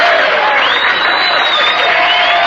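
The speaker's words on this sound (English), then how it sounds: "Or applause and whistles." Recorded applause and whistles from an old canned laugh-track tape, made for a radio show, come through loudly, with a dense crowd roar and sharp whistles sliding over the clapping.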